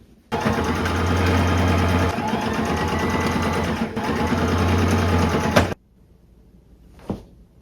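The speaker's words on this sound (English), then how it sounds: "we're gonna sew all the way around the armhole" A sewing machine stitches around the armhole of a dress made from a bedsheet, a close steady motor whir in two long runs with a short break, then stopping with a soft click.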